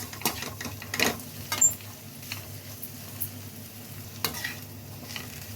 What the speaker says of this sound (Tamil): நல்லா அப்படியே ஃப்ரை பண்ணுங்கள் உப்பு மஞ்சள் தூள் வந்து எல்லா இடத்துலையும் நல்லா மிக்ஸ் ஆகணும்